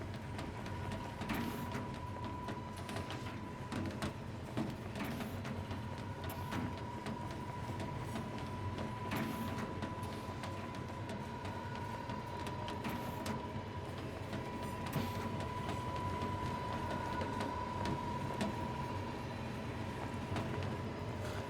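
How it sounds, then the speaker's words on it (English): Steady rumbling rattle of a train running in the video game Final Fantasy XV, continuous and even throughout with a faint high tone, no talk. "Why did we put so many more cars on this train?"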